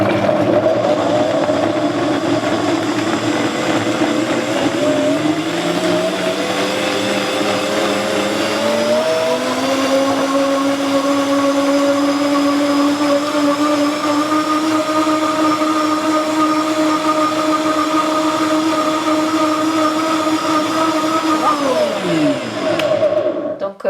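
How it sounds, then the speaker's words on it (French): A blender runs loud and steady, mixing fresh coconut flesh for a cocktail. Its motor whine climbs in pitch as it speeds up, holds, then winds down at the end. "Donc là, on va mixer tout ça."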